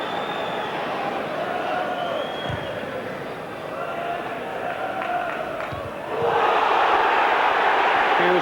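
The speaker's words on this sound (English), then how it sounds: "The crowd weren't happy with that." A large football stadium crowd at the Leeds v Manchester United League Cup semi-final second leg in 1991 roars in a steady, distant wash that swells louder near the end, with commentary voices over it.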